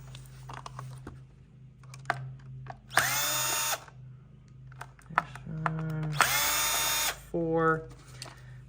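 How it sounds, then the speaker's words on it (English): Cordless screw gun backing out screws from a Tesla Model 3/Y steering wheel, heard in two loud bursts of whirring, the second followed by a short rising spin-up, with clicks and handling noise between. "get my screw gun in there to go ahead and remove these four screws"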